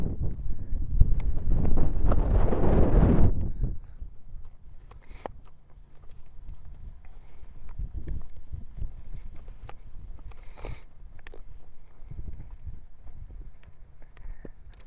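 Hooves thud and shuffle irregularly on soft ground under heavy wind rumble, a horse backing up slowly in a few uneven steps.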